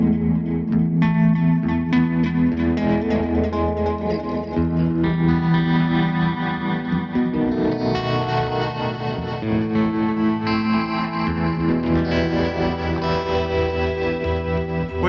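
Modular synth ambient board with an optical tremolo, playing a sustained, continuous layered tone with pulsing, wavering harmonics and echoing reverb throughout, steady and fairly loud with no talk.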